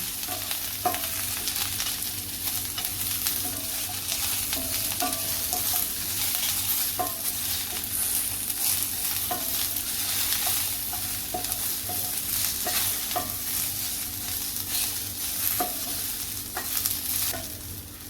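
Chopped onion sizzles steadily in a pan while being stirred, with a constant frying hiss and regular scraping clicks of a spoon, close and alone.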